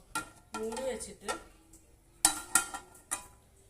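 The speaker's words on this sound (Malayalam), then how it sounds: "ഇനി ഞാൻ അത് മൂടി വെക്കാൻ പോകുന്നതാണ്" A lid is set onto a pot of boiling chicken curry, with several sharp metallic clanks and taps close by after a voice talks briefly at the start.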